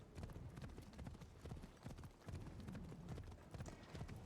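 Steady clip-clop of a horse's hooves as it is ridden in a video game, a continuous even rhythm of close hoof strikes filling the whole stretch, with faint voice in the background.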